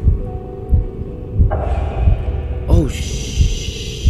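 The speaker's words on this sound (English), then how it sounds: "This nigga got a heartbeat." A slow, deep heartbeat thumps steadily in the Bowels Of The Oceans horror game, about one beat each second, under a low ambient drone and a brief exclamation from a voice.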